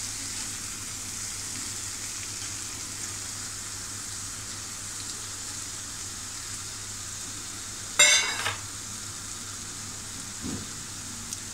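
Prawns sizzle steadily as they fry in an onion-tomato masala, a constant hiss with one brief louder clatter of stirring near the end.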